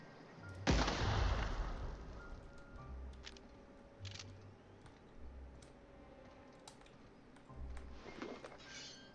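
Yellow containers blow up in The Outer Worlds: one loud, sharp blast followed by a rumbling decay, then several softer thuds and clicks spread across the rest of the moment.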